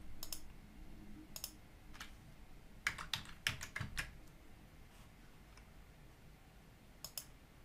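Close mouse clicks and short bursts of keyboard typing while working in Onshape CAD software, scattered and irregular against a quiet room background.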